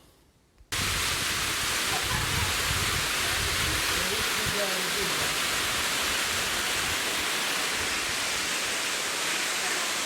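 A mountain stream near the Lekdush waterfall rushes in a steady, dense broadband wash that starts abruptly after a brief quiet moment and then continues unbroken and loud.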